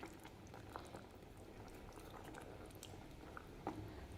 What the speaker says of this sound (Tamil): மாங்காய் போட்டு நல்லா கொதித்து வெந்துருச்சுங்க.